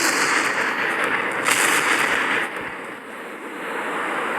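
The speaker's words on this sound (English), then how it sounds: "I'm just gonna activate these missiles and let them deal with it." Missiles detonating in a space-station disaster video game, a continuous roaring rumble of blasts with brief surges, loud and dense throughout.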